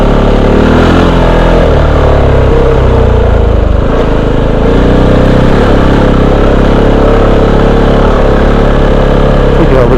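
A Kove 450 Rally adventure motorcycle on Tusk D Sports tires with a 51-tooth rear sprocket revs for a wheelie, run on power alone without the clutch. The engine is loud and close, surging and easing in pitch under wind rush.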